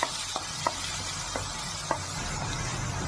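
Onion, ginger and green chili paste with garlic sautéing in oil, a soft steady sizzle punctuated by a few faint spoon-stirring knocks against the pan, quiet and close.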